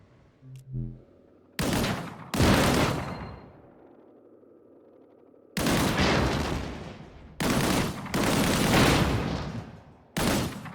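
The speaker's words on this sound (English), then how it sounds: "Shoot that barrel." Loud bursts of gunfire from the video game Disintegration as a barrel is shot: six separate volleys, each close and harsh, some brief and some sustained, with quieter gaps of low rumble between them.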